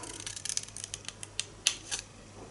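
Grey board being cut with a blade up to a score line, heard as a quick series of small, close, crisp scratchy ticks and snips of varying loudness over a faint steady hum.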